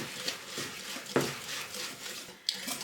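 A whisk scrapes and clinks against a bowl while cane sugar is stirred into melted coconut oil, with quiet gritty swishes and a couple of sharper taps on the rim.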